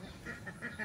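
Ducks on a farm give a few short, faint quacks in quick succession, heard at a distance with low background noise.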